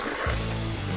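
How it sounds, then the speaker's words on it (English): Chopped celery ribs, peeled carrots and a leek hit hot olive oil in a pan, giving a steady, close sizzle that starts abruptly after a brief moment and holds loud to the end, with no talking. "add the rest of our olive oil. So we pre-chopped, we have 2 celery ribs, 2 peeled carrots, and 1 leek."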